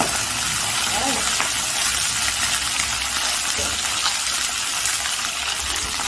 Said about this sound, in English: next I put in the mutton, the mutton meat pieces